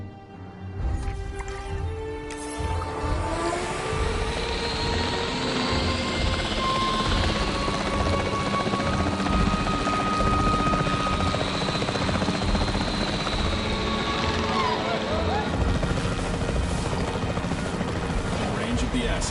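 Capture team helicopter in the video game Jurassic World Evolution 3, its steady loud rotor thrum filling the whole stretch, with radio-style voices and game sounds layered over it.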